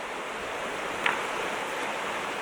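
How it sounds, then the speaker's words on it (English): Hail pours down in a powerful hailstorm at a Clark Fork campground, a steady, dense hiss of countless stones with one sharper tick standing out partway through. "It's hailing right now."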